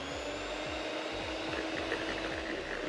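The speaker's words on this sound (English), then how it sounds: "we're going to give this a whisk until everything's nicely incorporated." Vegan egg mixture with sugar being whipped by an electric mixer, a steady loud motor whir with rhythmic low pulses throughout.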